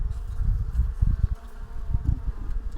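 Honey bees buzzing at a weak beehive, a close, low, uneven drone that swells and fades in short pulses as individual bees pass near, with no talk.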